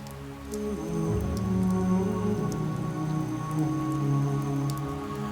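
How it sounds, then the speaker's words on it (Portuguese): Steady rain falls on a riverbank, a dense continuous patter of drops striking surfaces that holds at a moderate level throughout, with a low tonal drone running beneath and no voices. "Chove."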